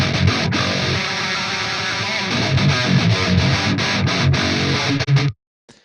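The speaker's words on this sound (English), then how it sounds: "Will Putney plugin called Metal Blend, and it sounds like this." Harsh, heavily distorted metal guitar through the STL Will Putney Metal Blend preset, loud chugging riff with sustained chords and palm-muted hits, played alone and cutting off abruptly near the end.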